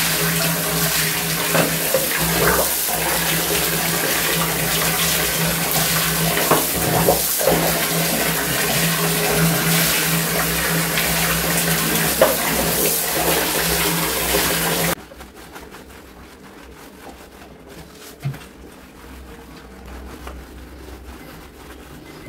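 Water gushes steadily from a tap while Maggie the pet is bathed on Kali Puja day, a loud continuous rush lasting about fifteen seconds before stopping abruptly, leaving a quiet room with a few faint knocks.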